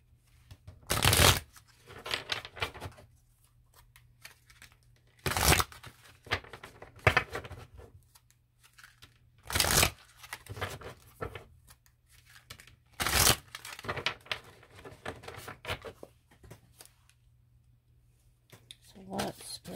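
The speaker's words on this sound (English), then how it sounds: "We're going to pull some cards for the feminine." A deck of tarot cards gets shuffled in four quick, crisp riffling bursts spaced a few seconds apart, with soft handling and tapping between them and quiet talk in the background.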